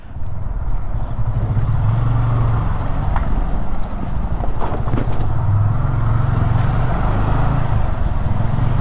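Cars pass on a road near Ooty in the hills of South India, their engines and tyres droning steadily and fairly loudly under a constant motor hum, with a few faint clicks and knocks along the way.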